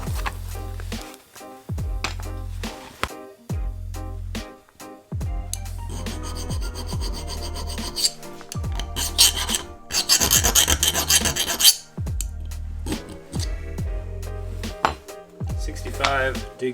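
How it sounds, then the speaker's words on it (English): A steel file rasps across a handmade knife blade in repeated close scraping strokes. A steady rhythmic musical beat plays underneath. "See what file actually digs into it"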